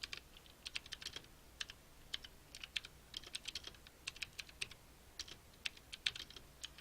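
Rapid, irregular clicks of fingers typing on a computer keyboard, close and fairly quiet, coming in short bursts with brief pauses between words.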